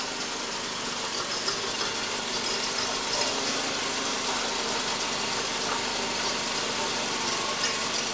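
Mercedes-Benz S124 with the M102 engine idling roughly because of a loose fuel injector, a steady close mechanical chatter and hum under the hood with faint uneven ticks and knocks throughout.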